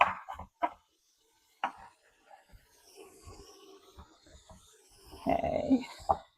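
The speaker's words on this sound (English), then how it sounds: "I'm chopping like I'm on the chef channel in a competition." Vegetables such as parsnip are chopped on a board for minestrone, with a few sharp knife taps spaced out and then a quicker close cluster, in a quiet kitchen.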